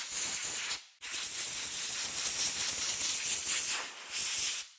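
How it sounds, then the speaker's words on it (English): Compressed-air blower hissing steadily up close as it blasts dust off a brake caliper bracket on a 2018 Hyundai Elantra, a loud continuous rush with one brief cutoff before resuming. "get a blower and blow all the dust off"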